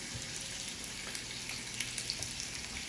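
Butter or food hitting a preheated pan while making pasta, giving a soft, fairly quiet sizzle with small scattered pops and no talking.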